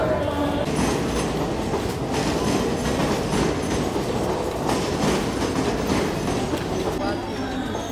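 A Mumbai fast local train on the Central line toward Thane runs with a loud, continuous rumble and rhythmic wheel clatter from inside the open coach, with voices talking over the noise.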